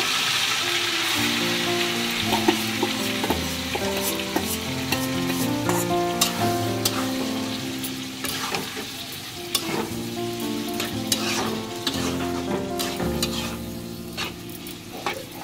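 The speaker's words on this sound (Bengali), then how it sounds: "এবার চিকেনটা ভালোভাবে ভেজে নিব।" Marinated chicken, added to golden-fried garlic for a chicken cheese pizza, sizzles loudly in a pan, with frequent scraping stirs and clinks throughout and no talk.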